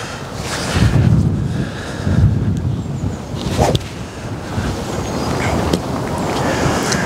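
Gusty wind blows across an open golf course fairway, buffeting the microphone in rough surges that swell and ease, with a few sharp snapping gusts and no one speaking.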